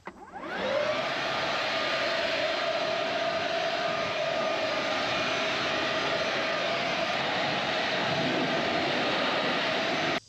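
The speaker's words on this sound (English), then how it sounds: "get my leaf blower and clean off the tractor just a little before we get going today" A leaf blower cleans off a farm tractor, starting after a brief moment and then holding a loud, steady, close-up roar with a constant whine that runs unbroken to the end.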